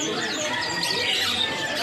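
Young Bali starlings at a bird market kiosk make scattered thin, high chirps and squawks against a steady wash of crowded market noise, with a voice talking faintly underneath.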